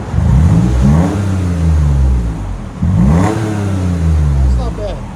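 A custom 2012 Toyota Sienna minivan with a muffler delete revs its engine up twice, each loud, raspy surge rising and falling close by with no talking.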